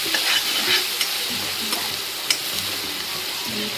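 Cumin and chopped green chilies sauté in a spoonful of hot oil in a pan, giving a steady loud sizzle throughout. A spatula stirs with occasional light scrapes and taps.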